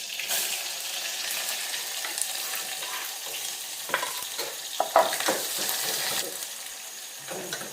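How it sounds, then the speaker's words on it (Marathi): Onion and curry leaves go into a hot tempering of mustard seeds and cumin, giving a steady close sizzle with scattered pops and stirring clatter. "आता कांदा कढीपत्ता टाकूया."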